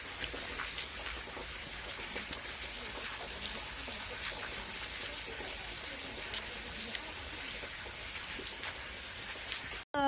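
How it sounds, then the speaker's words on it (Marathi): Steady rain falls outdoors during a drizzly evening, a dense even hiss of drops on surfaces throughout, with a sudden knock at the very end. "पाऊस चालू झाला"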